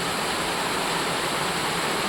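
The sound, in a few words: rain falling on terrace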